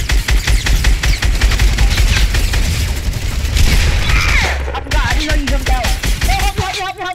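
SMG fire in Fortnite Battle Royale, loud rapid bursts of gunshots crackling densely for several seconds, followed by sparse game effects and a brief voice.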